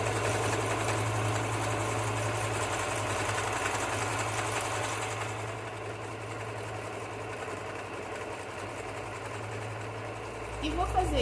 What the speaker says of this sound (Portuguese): eu coloquei aqui 55 e vou costurando ele